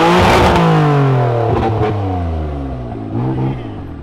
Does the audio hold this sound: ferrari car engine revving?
yes